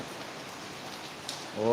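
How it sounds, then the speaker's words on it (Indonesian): Steady rain falls outdoors at a construction site, a soft continuous patter and hiss, with a brief tonal voice-like sound rising at the very end. "Hari ini hujan terus."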